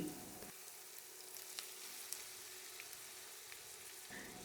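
Sliced onion and cut flat beans (shim) fry in a pan, producing a soft, even hiss with a few tiny crackles, quiet and continuous throughout with no talking.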